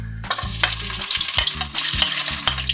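Garlic and onion fry in a hot pan, a bright continuous sizzle broken by stirring scrapes and low thumps of the utensil against the pan, close and loud with no voices.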